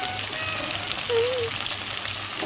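Chicken pieces frying with spices and turmeric in a pan give a steady, close sizzle throughout, with a soft hiss and faint crackle and no talking.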